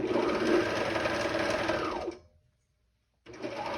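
A sewing machine stitches over a thread chain and a tag, running loud and steady for about two seconds, winding down to a stop, then starting up again after a short silence.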